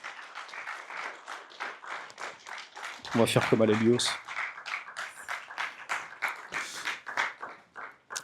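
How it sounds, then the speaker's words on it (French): An audience at a short film screening applauds the jury members, scattered clapping running beneath someone speaking French, with a brief tonal burst in the middle. "on peut les applaudir"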